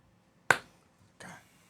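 A single sharp, close hand-slap of a high five cracks out, followed a moment later by a softer, briefer second contact sound in an otherwise quiet room.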